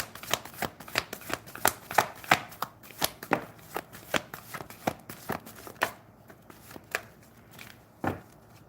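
Tarot cards being shuffled in a series of crisp, rhythmic riffles and slaps, close and fairly loud, with a brief pause and then a final card snap; no talking.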